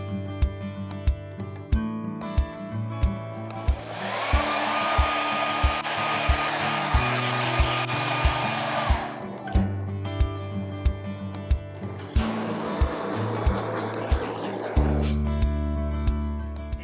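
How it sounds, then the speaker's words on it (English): A hair dryer pushes acrylic pouring paint across a canvas in two long, loud blowing bursts over a steady rhythmic ticking beat of background music, with stretches of music alone between them. "I'll be blowing the paint out with a hairdryer with my mouth if I need to, just to give the paint a push"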